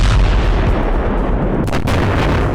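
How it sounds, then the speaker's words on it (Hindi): Russian artillery bombardment of a Ukrainian radar system in Kharkiv: heavy, rumbling booms and blasts follow one another in quick succession, loud and dense with no voices over them. "खार्कोव में रशियन फोर्स ने यूक्रेनी रडार सिस्टम को भीषण बमबारी कर तबाह कर दिया।"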